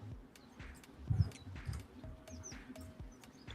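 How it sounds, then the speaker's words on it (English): Birds chirp in short, high, scattered calls at moderate distance outdoors, sitting over a low, steady rumble of running stream water, with no voices present. "Listen to the birds chirping, man."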